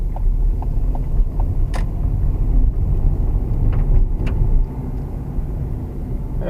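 Car on an Irish driving test route near Limerick, with a steady low engine and road rumble as it slows, a few faint clicks from the indicator or controls, and the rumble easing late on.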